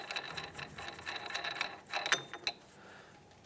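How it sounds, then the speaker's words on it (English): Axle nut coming off the wheel hub of a 2015-2019 Hyundai Sonata during a front wheel bearing replacement: close, light metallic clicks and rattles with a few sharper clanks near the end, no talk. "we can take our axle nut right off"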